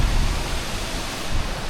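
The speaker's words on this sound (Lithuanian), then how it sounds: "Ir pagaliau priėjau pirmą krioklį." A small waterfall, the first of three along a hike in Vietnam, gives a steady, dense rushing hiss of falling water that stays close and unbroken throughout.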